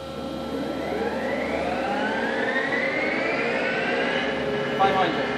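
Doosan Puma V550 CNC lathe spindle spinning up to 500 RPM, a steady whine rising gradually in pitch over several seconds, with a faint clunk near the end.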